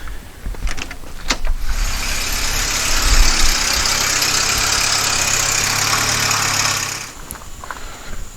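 The engine of a 1993 VW Cabriolet with a coolant leak cranks briefly and catches, then runs at a steady, loud, close idle with a whirring hiss for several seconds before dropping away.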